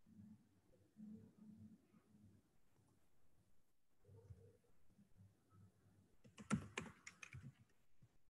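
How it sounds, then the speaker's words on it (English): A short burst of keyboard typing comes in near the end as a quick cluster of close clicks, after a quiet stretch with faint low hum and soft background noise. "once I type registration,"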